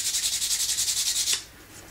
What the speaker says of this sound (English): I will just also quickly sand them off, because I don't like them there when I'm adding the color later